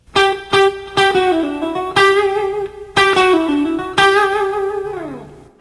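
Distorted electric guitar plays a slow lick: a series of picked notes, each ringing out, with pull-offs sliding down before a final fading note.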